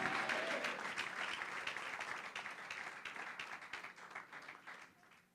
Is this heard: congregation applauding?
yes